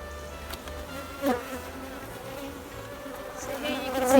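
Honey bees hum around an opened beehive, a close, continuous buzzing with individual insects swelling louder as they fly past.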